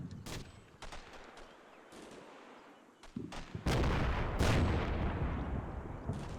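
Mortar fire in a war video game, sharp distant booms and cracks at irregular intervals, then a heavier rolling barrage of explosions that swells and lingers, with no talk over it.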